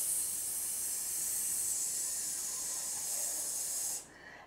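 Voices imitate a snake's hiss during a yoga cat pose, one long, steady, breathy hiss held for about four seconds before cutting off abruptly.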